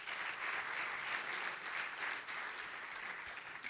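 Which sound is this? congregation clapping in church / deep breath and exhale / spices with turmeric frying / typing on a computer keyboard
congregation clapping in church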